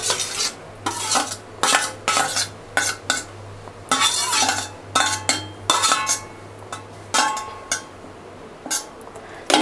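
Beaten eggs with fried potato and onion are stirred briskly in a bowl, a utensil scraping and clinking in quick irregular bursts against a low steady hum, close and fairly loud, with no talking.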